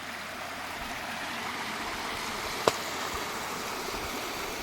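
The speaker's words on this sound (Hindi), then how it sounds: "तो यहाँ पानी की आवाज़ आ रही, कल कल करते हुए पानी" Steady broadband rush of stream water flowing over farmland in Madhya Pradesh, India, continuous and even, with one brief sharp click partway through.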